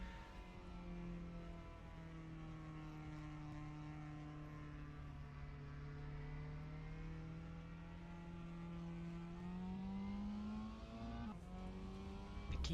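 Onboard engine note of a Mazda MX-5 Cup race car lapping the Portimao circuit, a loud continuous buzzing drone that rises and dips with the throttle and shifts sharply near the end, with no talk.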